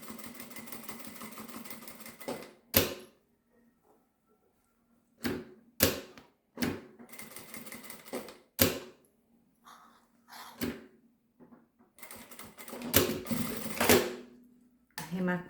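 A sewing machine stitches a small crossbody bag, backstitching at the start and end, running in several short bursts of rapid mechanical whirring separated by pauses, close and fairly clear, with a voice talking during the opening stretch.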